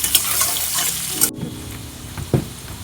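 Potatoes fry in a pan with a steady close sizzle, during preparation of an ucche aloo bhaja and related Bengali dishes. A sharp clatter comes near the middle, then softer bubbling and a brief stir.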